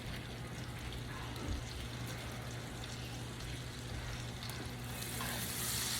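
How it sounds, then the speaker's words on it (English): Onions sauté in bacon grease and butter for a green bean casserole, giving a soft, steady sizzle that runs evenly throughout with no talking. "just want to saute the onions inside of the bacon grease"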